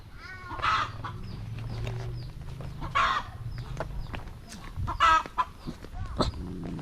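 Chickens in a rural home yard cluck and squawk in scattered bursts, fairly close, with several distinct calls over a low background of ambient noise.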